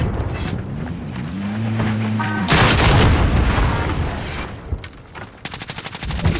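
Rocket launch in Call of Duty: Modern Warfare, a loud burst of blast and rumble that cuts in suddenly and holds for about two seconds, then a scatter of sharper explosive cracks and a rapid volley close by.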